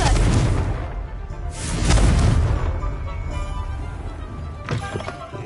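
Confringo blasting spell in a Harry Potter video game, a loud booming blast with a rushing burst at the start and another swell soon after, fading into a rumbling tail with a small pop near the end.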